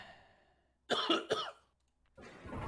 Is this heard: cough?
yes